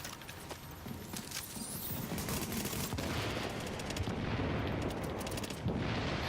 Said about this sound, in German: Es explodiert dort die ganze Zeit.